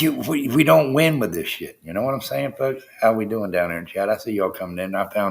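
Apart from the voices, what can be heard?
No distinct noise like a dog, phone or traffic.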